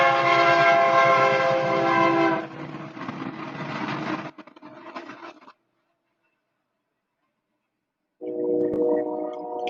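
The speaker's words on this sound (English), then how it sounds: "Train." A train passes nearby, a loud, dense rumble with a sustained horn blast that fades into quieter rolling noise, drops to silence, then the horn sounds again.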